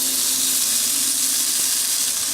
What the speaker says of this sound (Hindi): और इसे हम 1 मिनट के लिए अच्छे से भून लेंगे।